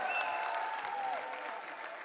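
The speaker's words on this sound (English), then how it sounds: "Give him a round of applause." A crowd at a mobile esports regional finals applauds a player, a steady wash of clapping with a faint tonal hum and whistle-like lines running through it.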